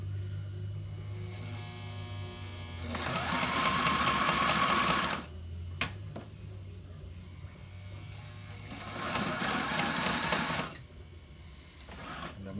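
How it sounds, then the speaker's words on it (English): A sewing machine stitches a bar tack across a battery strap in two buzzing bursts of rapid needle strokes, with a quiet pause between them and a low hum underneath. "I'm going to put a bar tack right here, so I'm just going to put it underneath my needle, drop my presser foot, and I'm going to sew"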